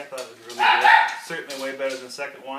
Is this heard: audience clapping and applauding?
no